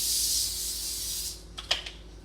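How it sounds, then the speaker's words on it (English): A hissing spray of cooking spray from an aerosol can onto a pan runs for over a second, then a few light clicks and taps follow close by. "We are going to spray our pan first."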